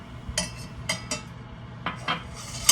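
Leftover sliced onions are tossed into a pot, giving a handful of light clattering knocks and scrapes of metal cookware, spaced irregularly and fairly close.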